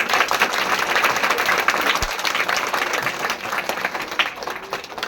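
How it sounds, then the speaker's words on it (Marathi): An audience at a school farewell ceremony claps loudly for a teacher, a steady, dense wall of many hands that holds at full strength throughout without letting up. "एकदा जोरदार टाळ्या होऊन जाऊ दे आपल्या चुंगीवड्या सरांसाठी"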